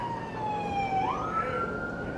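An ambulance siren wails outside, a sustained rising and falling tone that sweeps upward midway, heard at moderate distance over low road rumble.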